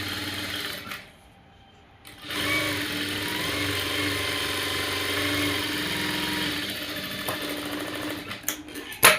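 A sewing machine stitches a folded fabric sleeve with a steady, close mechanical whirr, pausing briefly early on before running again, with a few clicks at the end.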